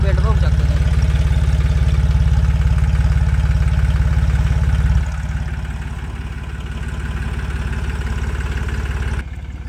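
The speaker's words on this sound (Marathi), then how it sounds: "फायरिंग बघा मित्रांनो, फायरिंग चेंज झाली त्याची आणि आवाज पण मारतो बेल्ट, बघू शकता." A tractor engine runs with a badly loose belt, a loud, steady throbbing idle whose firing changes partway through and drops to a slightly lower, rougher level, with the belt adding a slapping clatter close by.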